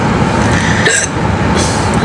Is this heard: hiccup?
yes